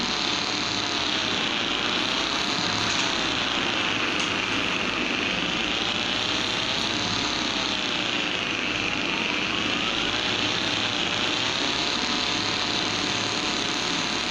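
Video game car from Vegas Crime Simulator 2 speeding through a tunnel, a loud continuous engine roar with rising and falling pitch sweeps as it accelerates, no voices.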